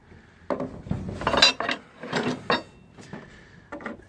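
Screws driven into wooden deck boards with 5mm spacer gaps, a series of short clattering, knocking bursts of the driver and screws, close and moderately loud, separated by brief pauses.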